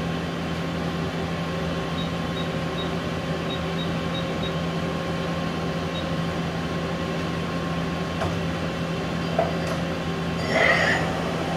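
Okuma MC-5VA machining center with a three-speed geared head spindle running at 1,000 RPM, a steady tonal mechanical hum with a faint whine, joined near the end by a few brief clicks and a short hiss.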